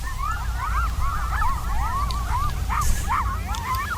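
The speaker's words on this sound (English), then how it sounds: "That's a whole stack of coyotes." A pack of coyotes howls and yips together outdoors in a nature field recording, a dense chorus of overlapping, wavering, rising and falling calls that continues without pause at moderate distance.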